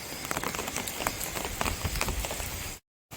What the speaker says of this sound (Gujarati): વરસતાનું વરસાદનું પાણી જોવો હજે તો ચાલુ જ છે